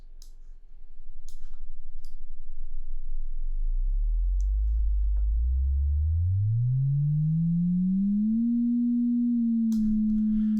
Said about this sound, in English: we are just hearing a sine wave right now